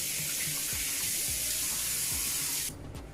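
A tap runs steadily into a sink while a face mask is rinsed off, a loud close hiss of flowing water with faint splashing that cuts off abruptly near the end.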